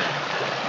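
A small stream flowing under a little wooden footbridge along a forest ravine trail, a steady close rushing and gurgling of water filling the whole moment.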